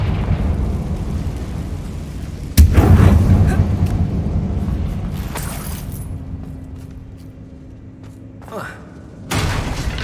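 Confringo blasting spell cast in Hogwarts Legacy inside a closed mine: a sudden loud boom with a rumbling tail, followed later by another sharp burst, over steady background game ambience.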